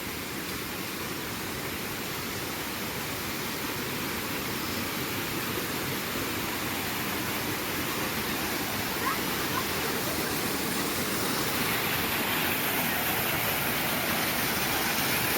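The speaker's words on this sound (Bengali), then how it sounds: "এখানে আবার একটা ঝর্ণা আছে এই ঝর্ণাটা আরো বিশাল বড়" A steady, dense rush of falling water roars without a break, broad and constant like a large waterfall nearby.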